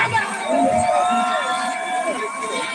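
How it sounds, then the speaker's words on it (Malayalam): Crowd at an outdoor tug-of-war match cheering and shouting steadily, with whoops and a few higher shouts rising over a dense, continuous roar; talk mixes in throughout. "ഒന്ന് കൈയടിച്ചു കൊടുക്ക"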